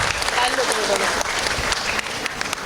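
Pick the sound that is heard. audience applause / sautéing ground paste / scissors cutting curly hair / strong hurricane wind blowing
audience applause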